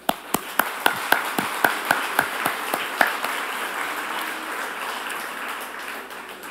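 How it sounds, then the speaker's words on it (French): Audience applause at a community event honoring entrepreneurs, managers and business representatives, beginning with a few sharp distinct claps before settling into a steady wash of clapping from a sizable crowd, without talk. "Vous aussi, vous méritez une bonne main d'applaudissements."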